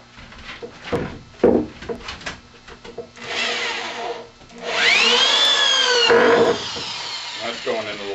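A power drill drives screws into hard wood, with bursts of whirring motor and grinding that strain and slow as the screw bites, close and loud, with brief pauses between runs.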